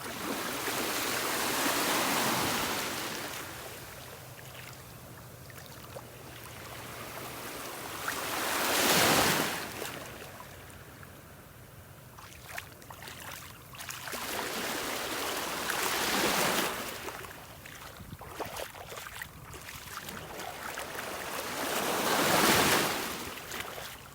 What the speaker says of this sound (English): not as many waves as yesterday